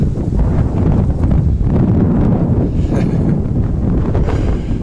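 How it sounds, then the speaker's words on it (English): Wind buffets a microphone outdoors beside an aquarium-plant pond, a loud, continuous rumbling roar that fills the whole stretch with no speech. "It's a little breezy. Hope that's not interfering too much."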